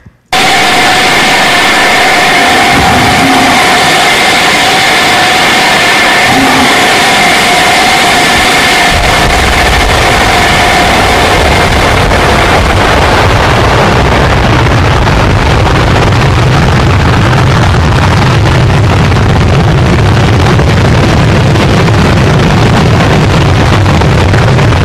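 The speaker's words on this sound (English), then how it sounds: "so this is a rocket engine here, it's got some actuators" A hydraulically actuated hovering rocket engine fires as a loud, sustained roaring rush with wind-like buffeting, a tonal whine in the first half that fades as the broad roar continues.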